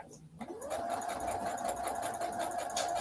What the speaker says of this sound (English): I'm just sewing.